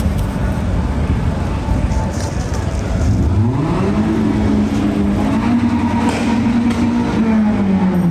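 Car engines rev on a city street at night, a loud close roar that climbs sharply in pitch and holds as vehicles pull away, over continuous traffic rumble and a busy urban background.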